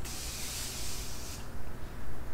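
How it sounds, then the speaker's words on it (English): A steady hiss of Morphe Mattifying Continuous Spray being misted for about a second and a half, close and fairly loud, followed by quieter rustling with no talking. "Our Morphe Mattifying Continuous Spray."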